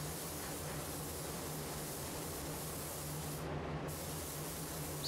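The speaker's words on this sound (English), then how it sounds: "Spraying up under it." A steady, close hiss of a spray gun blowing waterborne base coat and ceramic clear coat, continuous and even, with a brief change in tone midway as it sprays up under a panel.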